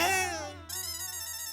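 An electronic ringtone plays a short melodic phrase, then shifts into a steady buzzing tone, fairly quiet and alone.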